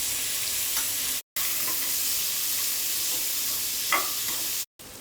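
Thinly sliced onions with salt and cumin seeds frying in a pan, giving a steady close sizzle with occasional stirring scrapes, briefly cut by two short silences.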